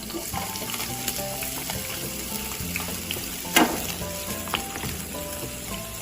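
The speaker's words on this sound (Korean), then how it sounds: "식용유 3큰술을 두르고 그리고 양파를 먼저 볶겠습니다" Onions stir-frying in three tablespoons of cooking oil, turned with a wooden spatula: a steady close sizzle with soft scraping stirs and a brief louder clatter midway.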